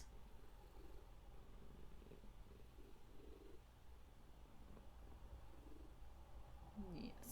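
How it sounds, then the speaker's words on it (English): A cat purrs close to the microphone, a low continuous rumbling drone with steady rhythm, quiet but constant throughout, with a faint voice near the end. "Your purr is loud enough it gets picked up on mic."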